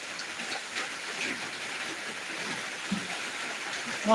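Torrential monsoon rain in Dinajpur, Bangladesh, heard as a steady, even hiss of falling water, moderately loud and unbroken, with a faint knock near the end and no speech.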